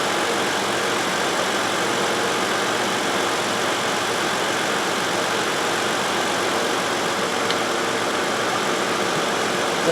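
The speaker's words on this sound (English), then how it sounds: "both fans are running" The radiator cooling fans of a 2011 Toyota Sienna 3.5L run with the air conditioning on while the engine idles, giving a steady, even whooshing hum close by that stays unchanged and carries no talk.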